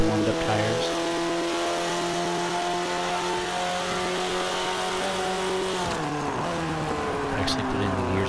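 Engine of a B class car lapping a track in Forza 5, a steady sustained drone with shifting tones and a gear change near the end, loud and continuous, with talk over it.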